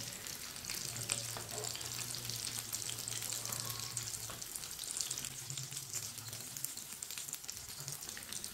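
Aloo tikki potato patties sizzle steadily in oil in a pan over a lowered flame, a continuous close frying hiss with no talk.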